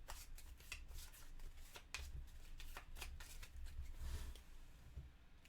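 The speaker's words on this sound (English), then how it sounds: "We're going to take the weapon and backpack cards and shuffle them together." Weapon and backpack cards for the Tiny Epic Zombies board game are shuffled by hand, giving soft, quiet riffling and flicking bursts in an irregular rhythm with no talking.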